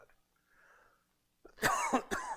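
During a Sunday church class, a single close, sharp cough bursts out after a quiet stretch, followed by a second shorter cough.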